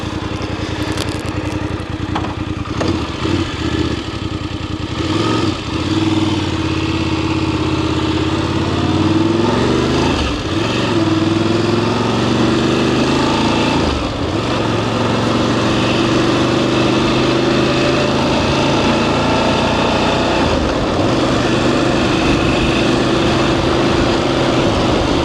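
A VOGE DSX 900 motorcycle pulls away and rides on through rural Spain, its engine droning steadily with repeated rises and dips as gears shift, loud and close with wind noise and no talk.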